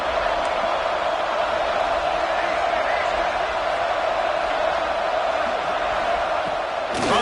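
Stadium crowd in College Football 26, a steady loud roar that holds the whole time, with a commentator talking over it.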